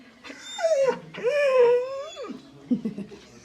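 A dog whimpers up close in two long, wavering whines, followed by a few softer snuffling sounds.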